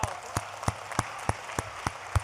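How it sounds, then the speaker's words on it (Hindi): An audience at a Hindi Ram-song poetry recital claps in a steady, evenly spaced rhythm, about three sharp claps per second, moderately distant over a low hum with no talking. "एक बार अच्छे से ताली बजा दीजिए"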